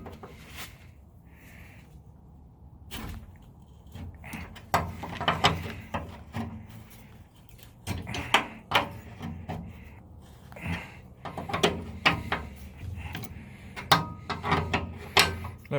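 Ratchet loosening a seized bolt on a pull-behind mower, repeated clicking strokes in bursts with metallic clanks and handling noise, close and fairly loud.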